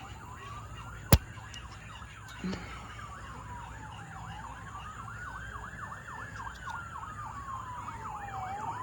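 An ambulance siren wails steadily at a moderate distance, its pitch rising and falling in long sweeps, with a brief sharp knock near the start.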